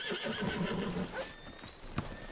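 In the video game Red Dead Redemption 2, a horse whinnies loudly over a steady ambient bed, with hooves clopping nearby and a brief sharp noise near the end.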